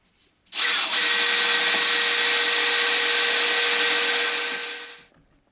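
Power drill driving a screw into wood for a media bookcase build, one continuous loud whirring run lasting about four seconds that starts abruptly and winds down, close by and alone.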